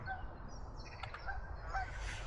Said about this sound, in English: Flock of geese coming in my direction.